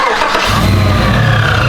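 Chevy Tahoe with a naturally aspirated 427 solid roller engine and Whipple supercharger cranks briefly, then catches into a loud, deep rumbling idle, close up with no talk.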